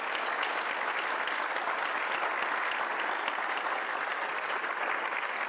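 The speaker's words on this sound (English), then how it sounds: "I want to take this opportunity to thank all of you with a round of applause." Steady, dense audience applause fills the room at a teacher of the year awards ceremony, even in level throughout without a break.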